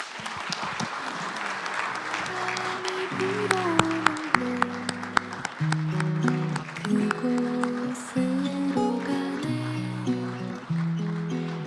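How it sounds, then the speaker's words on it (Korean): Sustained audience applause fills a hall at President Moon Jae-in's 2018 New Year press conference in Korea, steady and broad, with stepped musical tones playing over it throughout. "격려와 응원의 박수를 다시 한번 부탁드립니다"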